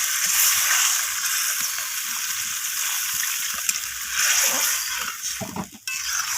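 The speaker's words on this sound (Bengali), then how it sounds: "তো সেই অনুযায়ী আমি এখানে জলটা দিয়ে দিচ্ছি।" Water is poured into a pan of spicy bhetki fish-bone gravy with kohlrabi, bringing a hissing, bubbling sizzle that stays loud and steady before tapering off.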